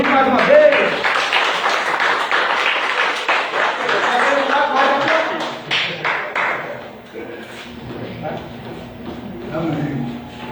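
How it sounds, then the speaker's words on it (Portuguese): A church congregation applauds at a worship service, dense clapping that fills the first seven seconds and then thins to scattered claps and murmuring voices. "Vamos aplaudir mais uma vez."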